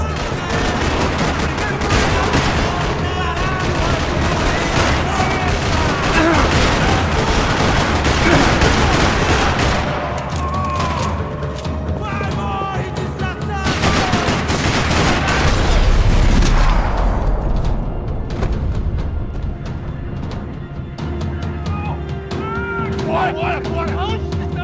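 Dense video game gunfire crackles through a parking lot shootout in Max Payne 3 on PC, loud overlapping bursts and booms running continuously with a few brief lulls.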